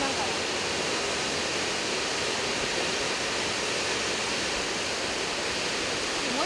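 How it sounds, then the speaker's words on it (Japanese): Water pouring over a high dam, a loud, unbroken roar of falling water with no breaks. "ゴーゴーと水の落ちてる音がします。"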